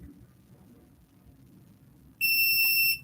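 An electronic beeping tone from a handheld jewelry diamond tester, one loud sustained shrill beep lasting under a second, close by.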